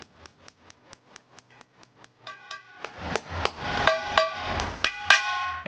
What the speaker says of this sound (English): drive each sleeve anchor into the hole